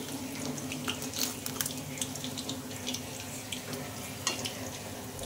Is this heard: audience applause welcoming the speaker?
no